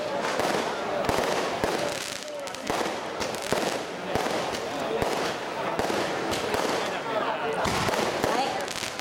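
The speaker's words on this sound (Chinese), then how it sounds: "热情的热烈炮声" Firecrackers crackle in a dense, unbroken barrage at a Taiwanese temple festival celebrating a deity's birthday, the rapid pops running throughout while people talk underneath.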